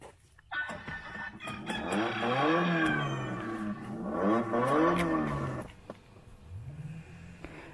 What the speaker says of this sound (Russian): и мотор ревет, как настоящий.